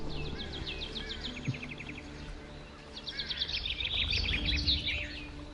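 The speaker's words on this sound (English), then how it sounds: "If you can hear above the music and the birds tweeting." Rapid repeated chirps and trills of birds in the video game Planet Coaster 2, two bursts of tweeting over soft background music and a low murmur.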